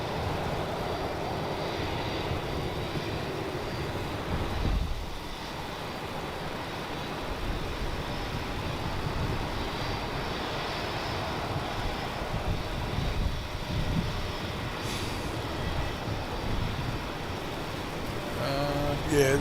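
An airliner arriving from Auckland at Melbourne Airport at night, heard from the T4 terminal as a continuous distant jet roar that rises and falls over nearly twenty seconds with no voices.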